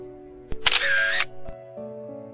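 A camera shutter fires as photos are taken: sharp clicks with a short, bright mechanical burst between them, close and fairly loud, with no talk.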